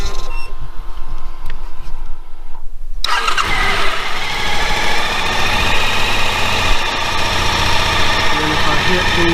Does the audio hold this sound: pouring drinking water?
no